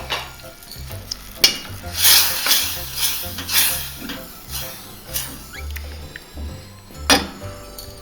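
Cooking cream poured into a simmering white wine sauce, with a soft, steady sizzle and a few stirring scrapes and utensil clinks close by, alongside low background clatter.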